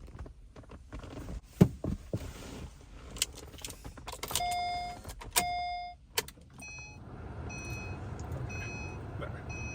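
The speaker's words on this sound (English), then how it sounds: "Let me turn on the car." An Acura sedan or crossover starts up inside the cabin, with keys jangling and a series of electronic chimes, then the engine settles into a steady low idle hum, close and moderately quiet.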